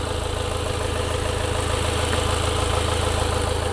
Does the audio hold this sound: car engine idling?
yes